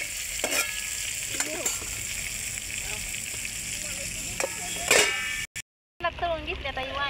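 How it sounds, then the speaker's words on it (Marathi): Brinjal (eggplant) frying in oil over a wood-fired stove, giving a continuous sizzle broken by stirring clinks and scrapes, with a short dropout near the end followed by a few voice-like sounds. "वांग शिजतंय."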